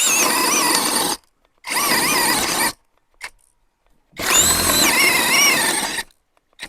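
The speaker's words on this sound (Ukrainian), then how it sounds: "Включили сверління, давайте ми на другу швидкість і попробуємо тут отвір зробити 22" ELTOS DA-16DFR brushless cordless drill on second speed boring a 22 mm hole, whining loudly in three separate bursts of about a second each, separated by silences and a brief click.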